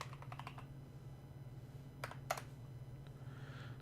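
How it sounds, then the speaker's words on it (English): Typing on a computer keyboard during a live show, with quiet rapid key clicks in short bursts over a steady low hum, close and without talk. "You get to watch me type on a keyboard for a minute."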